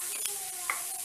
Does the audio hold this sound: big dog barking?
no